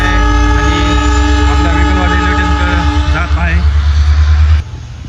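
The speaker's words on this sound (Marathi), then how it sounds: "हायस्पीड रेल्वे चाचणी चालू झालेली" A high-speed train on a trial run in Beed passes close and loud, a deep rumbling roar with steady humming tones, ending abruptly as it moves on.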